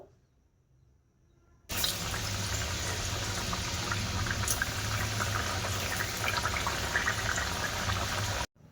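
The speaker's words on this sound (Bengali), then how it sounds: "এবার আমি এইভাবে নিমকিগুলো সব ভাজা করে নেব" Pieces of nimki dough sizzle in hot oil, a steady, dense, close frying hiss that starts abruptly and holds evenly for several seconds before cutting off.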